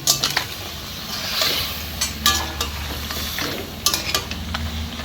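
Chicken goes into a hot pan with potatoes and is stirred, giving a close sizzle and hiss under repeated sharp scrapes and clinks of the spoon against the pan.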